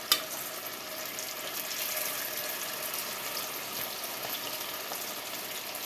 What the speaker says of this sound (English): Put the rest of our shrimp in the grease